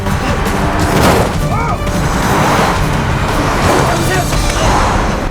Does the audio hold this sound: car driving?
yes